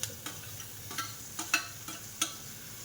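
Onion and tomato frying in a pan with salt added, with a soft sizzle under scattered spatula scrapes and taps, a few sharper clicks standing out. The sound stays fairly quiet throughout.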